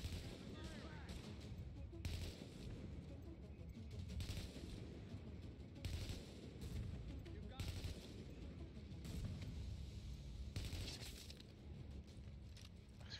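Gunfire in The Division video game, repeated bursts of shots and loud cracks over a constant battle din, with a voice briefly speaking over the action.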